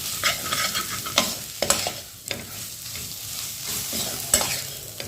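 A spice mix roasting with mixed vegetables in a pan, a continuous close sizzle with repeated scraping and clinking as a spoon stirs, no talking.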